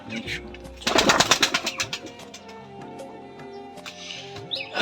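Rajshahi Giribaz pigeons coo nearby in soft, low throaty calls, with a noisy flurry early on and faint chirps in the background.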